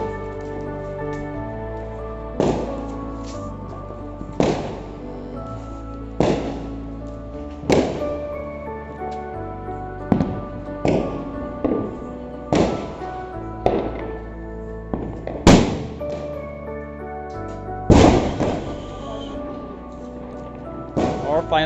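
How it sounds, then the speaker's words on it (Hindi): Diwali firecrackers go off as repeated sharp booms and thuds, irregularly spaced, over a steady tonal music bed, with several loud bangs standing out. "पीछे से बम की आवाज़ इतना परेशान कर रखा है बम ने"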